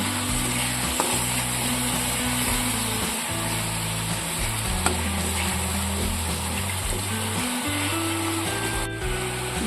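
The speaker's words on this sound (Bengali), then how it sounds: "জিরের গুঁড়ো দিয়ে আমি কষিয়ে নিচ্ছি।" Continuous close sizzling of spices and cumin powder frying in a pan, with a soft steady hiss and occasional light stirring, no voices.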